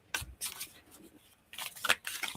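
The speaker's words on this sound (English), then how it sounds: "you guys hear me shuffling my deck in the background" A tarot deck shuffled by hand, a string of quick, soft riffling bursts in two bunches with a brief pause between, faint and close, with no talking.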